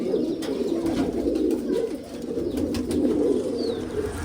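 Pigeons coo continuously in a low, throaty murmur, several birds close by, with faint rustling and an occasional higher chirp.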